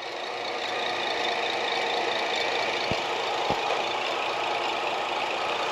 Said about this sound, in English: Sitting here idling away.